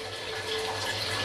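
Water pours in a steady stream into a bowl of cornflour being mixed for chilli chicken, a close continuous trickle with no talking.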